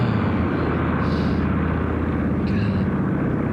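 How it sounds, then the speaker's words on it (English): Propeller transport plane droning overhead during a paradrop in Normandy: a continuous low engine rumble, steady and moderately loud, with faint rises in hiss, no speech. "Yeah, the plane's still going, so I'm gonna say."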